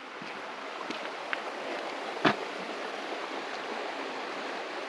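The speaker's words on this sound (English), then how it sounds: "We just crossed this nice little river or creek. Quite a bit of water flowing." Water flowing through a small creek in Victoria's High Country bush, heard as a steady broadband rush with no break, at moderate level and without voices.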